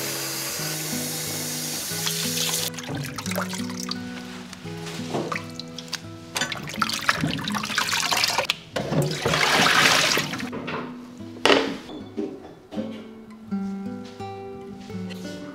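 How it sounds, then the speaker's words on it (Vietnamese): Sliced fresh potatoes for homemade chips are rinsed under running water, with a gushing stream splashing and gurgling irregularly alongside clinks and knocks of a bowl or pot, loud and close. "Mình rửa lại khoai."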